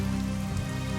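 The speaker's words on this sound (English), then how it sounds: "the rain is coming down in sheets through the mist" Heavy rain pours down on a cold, misty gray morning, a steady dense hiss with a low continuous hum beneath it and no voices.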